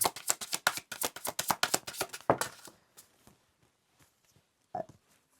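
Tarot cards are shuffled by hand in a fast run of crisp riffles for over two seconds, then the shuffling stops and only a few soft handling taps follow in near quiet.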